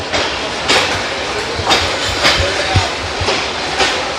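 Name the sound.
Parabat Express train departing station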